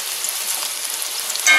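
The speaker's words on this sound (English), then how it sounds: "As we get to frying," Green tomato slices for sliders frying in hot oil, a steady close sizzle and crackle running throughout, with a slight rise in intensity at the very end.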